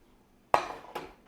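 Two sharp clinks of a metal baking dish lifted off a rustic crusty bread loaf in a home oven, a loud first knock then a softer second, heard close with no talk.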